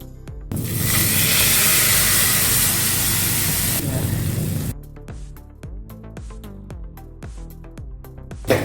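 Hot oil tempering with asafoetida hisses loudly when poured into Tamil mor kuzhambu, a buttermilk curry, a sustained sizzle of about four seconds that cuts off, followed by faint clinking and low kitchen sounds.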